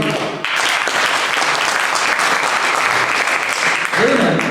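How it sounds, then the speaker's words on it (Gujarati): A satsang audience claps together in a dense, continuous burst of loud applause that holds steady, with a voice rising briefly near the end. "તાળીઓ પાડો"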